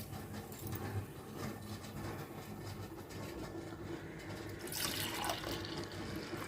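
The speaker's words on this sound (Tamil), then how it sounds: "இப்போ இதில் 6 டம்ளர் தண்ணிக்கு 5 டம்ளர் ஊற்றிக்கோங்க." Water is poured into a pot of rice for milk pulao, a steady running, splashing stream in a home kitchen that swells louder near the end, with no talk over it.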